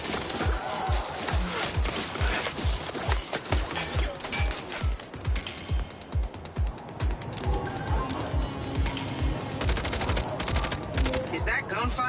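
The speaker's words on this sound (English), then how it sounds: "Is that gunfire I'm hearing?" Rapid bursts of gunfire in the video game Mindseye, sharp repeated shots in quick rhythmic volleys with scattered mechanical clatter, loud and fairly close throughout.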